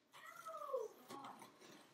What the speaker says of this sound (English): And if you hear crying in the background